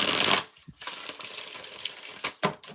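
Rider-Waite tarot deck being shuffled by hand, a dense papery riffling that fills most of the short stretch, with a few quieter pauses and sharper flicks between passes; no talking.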